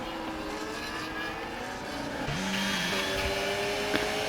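Race car engines from the F1 25 video game at Italy hum steadily and whine at high pitch as the cars run close together. Pitch shifts come with gear changes, and the drone stays loud throughout with no voice over it.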